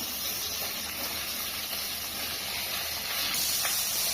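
Fish frying in a pan of hot oil as it is flipped, a faint continuous sizzling hiss with a few small pops and a slight swell near the end.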